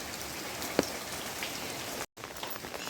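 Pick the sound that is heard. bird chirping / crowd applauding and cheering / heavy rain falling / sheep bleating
heavy rain falling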